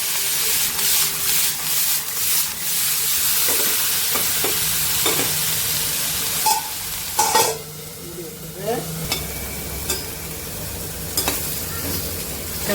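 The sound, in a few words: stirring carrots frying in a pan with green chilli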